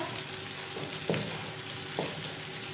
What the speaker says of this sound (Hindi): कढ़ाई में मैंने घी गर्म होने के लिए डाल दिया था। अब सबसे पहले हम इसमें प्याज ऐड करेंगे।